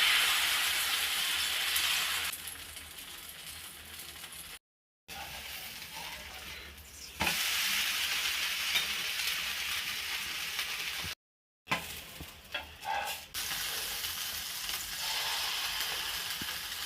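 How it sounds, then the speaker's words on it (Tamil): Green dosa batter poured onto a hot pan, hissing and sizzling steadily and close, with two short silent breaks and a few scraping bursts toward the end. "கிரீன் தோசை ஊற்றிக்கலாம்."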